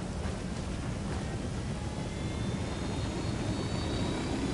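Airplane engine in a video game jumping scene, a steady loud broadband roar filling the whole stretch with a faint rising whine on top and no voices over it.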